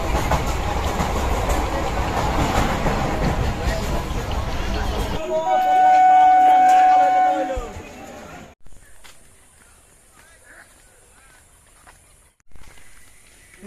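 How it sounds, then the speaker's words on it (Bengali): A crowded passenger train runs with loud, dense rumbling, then a sustained horn-like tone sounds before the noise drops away to near quiet with sparse faint sounds and brief bumps. "আজকের যাত্রা শুরু হবে আমাদের এই ভিড়ের ট্রেনের মাধ্যমে।"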